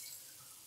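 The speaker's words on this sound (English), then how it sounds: "to run cold water to the carbon filter" Cold tap water running steadily through a LifeStraw glass carbon filter, a soft continuous hiss and trickle, quiet and unbroken, with no voices.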